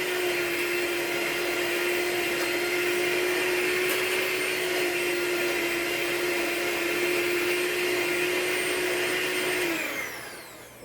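An electric mixer whirs steadily as it creams butter for chocolate chip cookie dough, a loud high-pitched motor whine holding constant for about ten seconds before winding down and cutting off.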